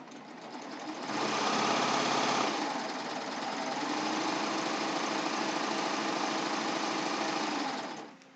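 A serger sewing machine feeds fabric for a ruffled pillowcase, running with a fast, close, steady whirring hum that ramps up, holds for several seconds and winds down at the end.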